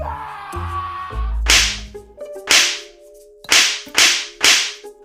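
Sharp whip-like cracks stand in for students being spanked hard, five loud snapping strikes in quick succession following a brief musical swell, with no speech.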